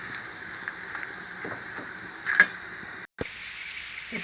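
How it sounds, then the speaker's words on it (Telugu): Ginger, garlic and onion fry in hot tempering oil, giving a steady close crackling sizzle with a brief break and a small clink. "అల్లుల్లిపాయలు కూడా వేసిస్తున్నానండి"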